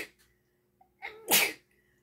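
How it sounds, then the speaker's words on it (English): A single loud sneeze with a sharp inhale just before it, close up in a quiet room. "Ooh, I'm gonna sneeze."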